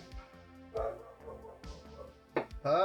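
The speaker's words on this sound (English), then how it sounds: "Probably just somebody walking their dog." A dog outside a home kitchen, likely being walked past, gives a few short yips and barks with whimpering tones, moderately faint and spaced irregularly, rising to a louder burst of barks near the end.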